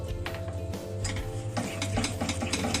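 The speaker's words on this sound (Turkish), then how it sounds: "Kıvam alıncaya kadar sürekli karıştırıyoruz." A spoon stirring thick milk pudding in a pot on the stove, soft repeated scraping and ticking strokes at close range over a steady low hum, no talking.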